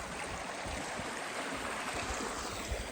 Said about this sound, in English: And the creek opened up a bit again.